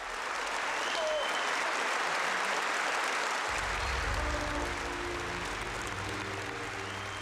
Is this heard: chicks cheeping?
no